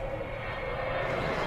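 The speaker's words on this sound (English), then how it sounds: "those engines have a sound that anyone who's ever heard a Vulcan before instantly recognizes" Avro Vulcan bomber jet engines give off a dense, steady roar with a broad rushing hiss, heard alone for a brief stretch.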